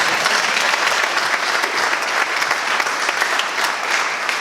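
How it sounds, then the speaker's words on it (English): An audience at a West Point leadership conference gives a junior officer a round of applause, loud, dense and steady clapping that continues without a break. "one more round of applause for him"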